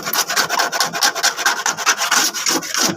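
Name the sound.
sanding motorcycle paint by hand with sandpaper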